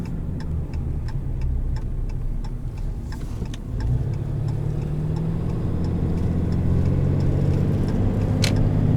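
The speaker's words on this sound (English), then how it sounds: "So like right now, this is just the exhaust brake." Exhaust brake on a 2018 RAM 2500HD Laramie with the Cummins diesel, heard from inside as a continuous low rumbling drone with faint repetitive ticking, no talk.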